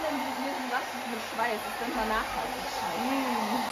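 A hair dryer blows in a steady, continuous whoosh throughout, with a voice talking over it.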